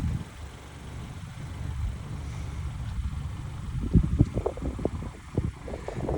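A senior-owned 2013 Honda Accord with 28,000 miles idles in a steady, low rumble, with wind buffeting the microphone and a few soft knocks toward the end.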